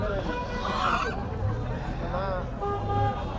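Chinese ducks at a busy rural market honk and quack in short bursts close by, with people talking over the crowd and other poultry calls mixed in.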